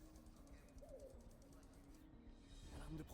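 Pigeon cooing in the Marvel's Spider-Man video game, a soft low coo heard faintly beneath steady game ambience and background hum.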